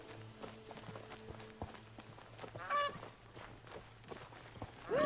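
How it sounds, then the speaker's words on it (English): Canada geese honk in Horizon Zero Dawn, with two brief calls rising over a steady game soundscape of footsteps and ambient rustling. "Fucking Canadian geese."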